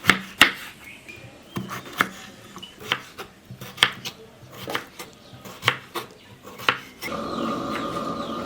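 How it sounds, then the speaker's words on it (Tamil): A knife chops washed potatoes on a board, giving a series of sharp, irregular cuts at a steady working pace, close and distinct, before a softer steady rustle at the end. "அதை நல்லா கழுவிட்டு கட் பண்ணி எடுத்துக்கலாம்."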